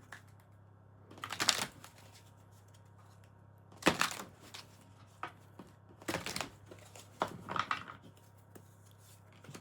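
Tarot cards shuffled by hand in four separate bursts of riffling and slapping, fairly close and moderately loud over a quiet background hum, with pauses between each burst.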